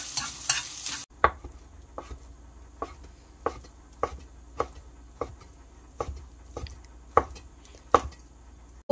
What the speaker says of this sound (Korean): 처음에는 식용유를 볶다가 나중에는 들기름을 이렇게